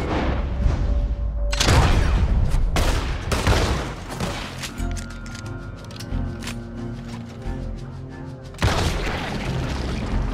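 Shotgun blasts in the video game Red Dead Redemption 2, several loud booming shots in quick succession followed by a quieter stretch of tonal game sound and a final heavy blast, with no talking.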